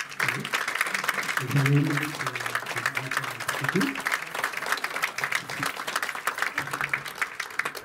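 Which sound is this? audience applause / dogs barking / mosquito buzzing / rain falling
audience applause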